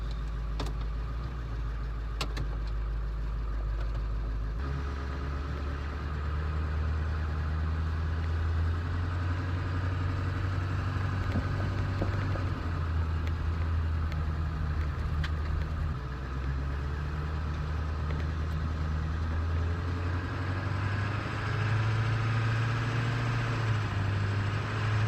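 A 7.3 diesel truck engine rumbles at a low steady idle, then the pitch rises and falls as it revs and drives off, constant and fairly close throughout.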